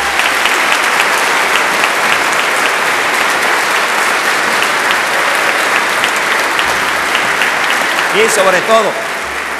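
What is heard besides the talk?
congregation applause in church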